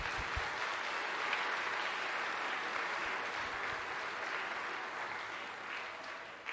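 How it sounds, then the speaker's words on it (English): Sustained, dense applause from the audience at a middle school orchestra concert, steady and fairly loud throughout with no voices on top, tapering slightly near the end. "Let's give a big round of applause for all of those folks."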